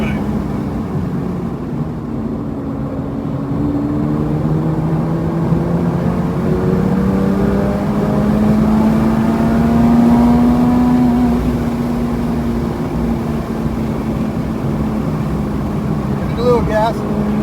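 A race car engine drones loudly and steadily at Buttonwillow Raceway during a track-day session, its pitch climbing gradually as it accelerates along the circuit.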